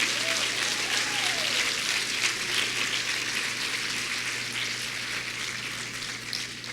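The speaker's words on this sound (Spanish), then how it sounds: "Dale un aplauso al Señor." Congregation applauding during a church service, a steady, sustained wash of many hands clapping at even loudness, with a low constant hum beneath it.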